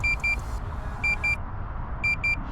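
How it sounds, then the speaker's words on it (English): A Potensic Atom Mini drone transmitter beeps in short paired bursts, repeating three times at regular intervals over a steady low rumble of wind or motor noise. "I really wish it didn't beep like that."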